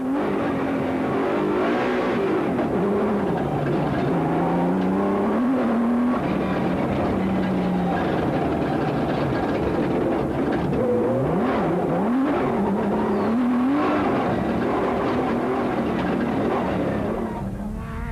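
Nissan Hardbody rally truck at speed during the 2003 Toyota Dealer 400 rally, its engine droning loudly and continuously with rising and falling pitch as it shifts through gears.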